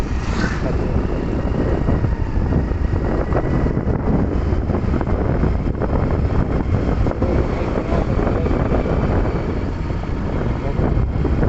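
Strong wind roars continuously into the microphone on a road, loud and buffeting throughout, with traffic rumble underneath and no clear speech.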